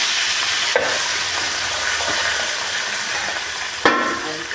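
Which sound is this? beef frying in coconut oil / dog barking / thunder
beef frying in coconut oil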